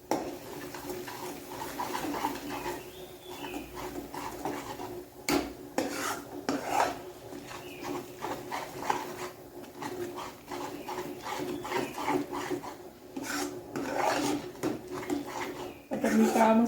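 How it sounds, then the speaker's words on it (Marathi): Black masala is stirred into a curry in a pan. A spoon scrapes and rubs against the metal in irregular strokes, with occasional clinks, heard close and at a moderate level. "तर आपल्याला परत एकदा चांगलं मिक्स करून घ्यायचं."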